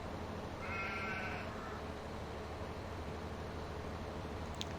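Sheep in a paddock, a single short bleat early on over steady faint outdoor background noise.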